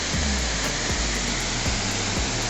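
Waterfall water rushing inside a small cave in Stara Planina, a loud, steady broadband roar with no pauses, recorded close to the falling water, no voices.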